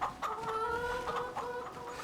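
Farm chickens in Farming Simulator 25 cluck steadily and close by in a continuous, slightly warbling chatter, with no talk over them.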